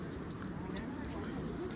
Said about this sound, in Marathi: आणि हे बघा हे घोडे तर जातात